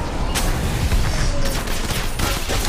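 Dense, continuous gunfire crackles throughout in the shooter game Apex Legends Mobile, loud and close, with overlapping bursts and booms like a chaotic firefight.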